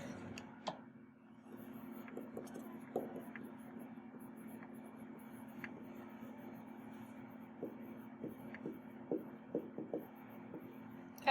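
Pen or pencil writing math notes on paper at a steady scratching pace, with small taps and strokes over a constant low electrical hum, fairly close and quiet.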